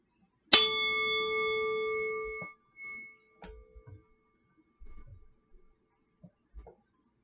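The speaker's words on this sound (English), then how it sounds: "And I'm going to ring our bowl" A meditation bowl is struck once, giving a bright, clear ring that decays over about two seconds, followed by a few faint soft knocks and shuffles in an otherwise quiet room.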